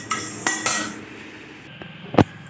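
A utensil scrapes and clinks against a pan while fenugreek seeds are dry-roasted for mango pickle, giving a few sharp metallic knocks and soft scraping rustles close by, ending in one louder clatter.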